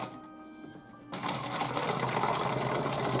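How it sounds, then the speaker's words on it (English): Hot, strongly brewed tea poured into a container for homemade iced tea; after about a second of quiet, a steady, close liquid gush starts and continues, with no talking. "And just pour it all in."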